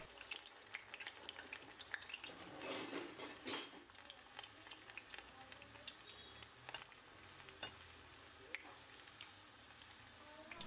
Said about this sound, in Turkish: Hemen börekleri kızdırmış olduğum tavanın içerisine aldım.